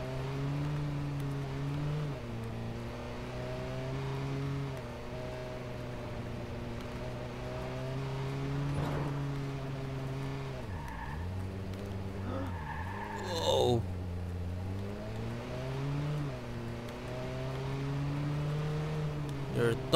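In the Watch Dogs video game, a car drives through Chicago with a droning, shifting engine tone, rising and falling with the revs, broken by brief tire skids and squeals partway through.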